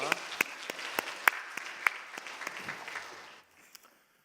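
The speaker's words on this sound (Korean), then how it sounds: "하나님께 영광의 박수 올리겠습니다" A church congregation applauding during a Wednesday worship service, a short round of clapping from a sizeable group in a large room that fades out, with one or two stray claps after.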